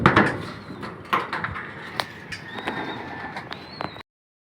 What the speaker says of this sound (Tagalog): 4 lang mga kalapatids nakabalik sa atin